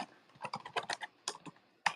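Rapid, irregular clacking of keys on a computer keyboard, close and fairly crisp, in uneven bursts with a short pause before a final louder tap, with no voices.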